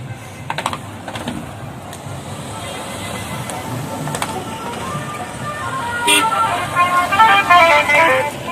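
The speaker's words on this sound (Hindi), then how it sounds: "ये बारात की गाड़ी अभी सामने वाले पहाड़ी की तरफ से आ रही है।" A wedding procession vehicle approaches along a hillside mountain road, its engine and a few horn toots rising toward the end amid outdoor ambience and scattered clicks.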